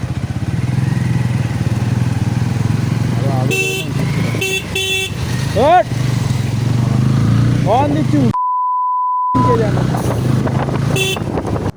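Loud, busy traffic up close on the NH 12 highway near Siliguri, India: motorbike engines droning, several honking horns in bursts, and a brief steady electronic beep near the end.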